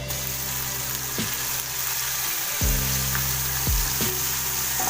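Kathiyawadi eggplant olo with chopped tomato is stirred in a frying pan. A steady loud sizzle runs throughout, and a few spaced scrapes of the spoon come through it, with no speech.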